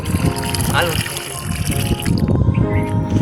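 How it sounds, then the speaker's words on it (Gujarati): Water pouring steadily from a bucket into a birdhouse basin, a continuous close trickle and splash under a person talking. "આપણે આ પાણી ભરાતું જાય ને કેવું ઠંડુ લાગે"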